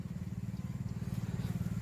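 A water pump engine chugs in rapid, even pulses while irrigating a field for potato planting, a close, steady low throb that holds a constant rhythm throughout.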